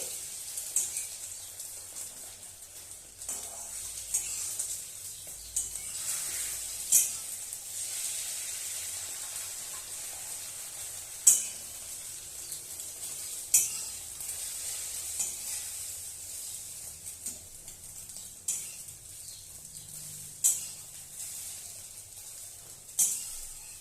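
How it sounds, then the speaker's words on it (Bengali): An egg omelette sizzles steadily in a frying pan, a continuous soft crackle with occasional louder pops and scrapes, close and without talk. "একটা ডিমের অমলেট বানিয়ে নিচ্ছি"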